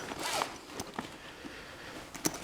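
A zipper on a carry bag for a blanket is pulled open in a few quick rasping strokes near the start, followed by scattered light clicks and a final short zip burst, close and fairly loud, with no talk.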